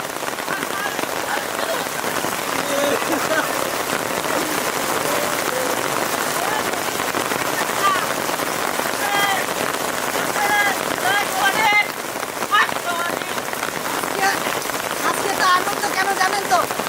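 Rain falls steadily on a surface in a dense, even patter throughout. The sound stays loud and constant, and speech is faintly mixed in.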